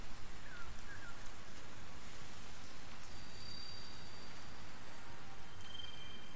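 Steady rain hiss in Sky: Children of the Light, soft and continuous, a broad even patter with no talk over it.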